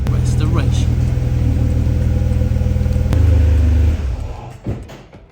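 A Ferrari 456 rumbles steadily at low speed as it is driven back indoors, its engine note swelling briefly before cutting off, followed by a few faint knocks and a quieter tail.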